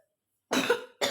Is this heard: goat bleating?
no